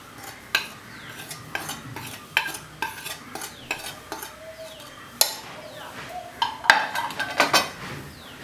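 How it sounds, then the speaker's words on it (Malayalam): Vanilla cake batter being mixed by hand in a bowl at home: repeated scraping strokes and sharp clinks of a utensil against the bowl, close and fairly loud, with no one talking. "ഞാൻ ഇവിടെ മുഴുവൻ ബാറ്ററും ഇതാണ്ട് ഇങ്ങനെ മിക്സ് ചെയ്ത് കൊടുത്തിട്ടുണ്ട്."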